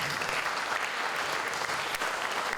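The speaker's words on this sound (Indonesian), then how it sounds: "Tepuk tangan untuk kalian." Steady applause from a crowd, dense clapping that fills the whole stretch without pause.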